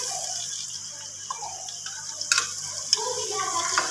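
Ginger garlic paste frying with browned onions in a pot for a turnip and meat curry, a steady hiss and sizzle with intermittent stirring scrapes, close up.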